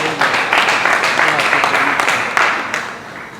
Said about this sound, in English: So can we have a round of applause for the entire member?